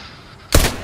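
A single sharp sniper shot rings out in a Fortnite match, loud and abrupt after a quiet stretch, with a short decaying tail.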